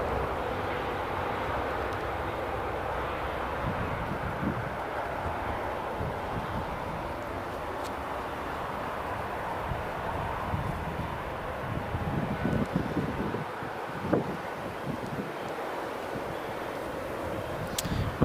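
A KLM airliner taxiing to its stand at Newcastle International Airport, a low, steady engine rumble heard from a distance with faint wind and no talk.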